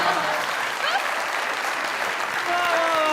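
Sustained audience applause at a comedy show stage welcome for a performer, dense steady clapping throughout with some mixed voices and a tonal sound near the end.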